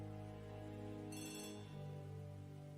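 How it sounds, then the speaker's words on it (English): Old-style telephone bell ringing indoors, a steady electric trill with a sharper metallic burst partway through, faint and somewhat distant in a quiet room. "Oh, what's that? The phone ringing?"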